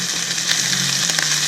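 Banana prawns fry in hot oil with a loud, close, continuous sizzle and occasional sharper crackles and pops, no voices over it.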